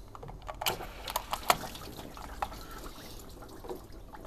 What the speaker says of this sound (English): Oh, it's too powerful, this hose. It keeps on getting splashbacks.